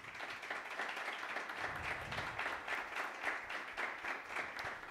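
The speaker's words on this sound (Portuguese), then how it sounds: "Uma salva de palmas." A large audience at an anniversary ceremony for Brazil's Procuradoria-Geral da Fazenda Nacional applauds steadily, many hands clapping in a dense, even patter that continues without letup, heard from some distance.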